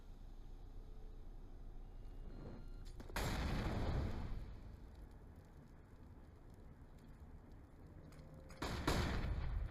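Two loud, broadband gunfire bursts from an AK rifle in Counter-Strike on Nuke at a pro match, separated by several seconds of low ambient game noise.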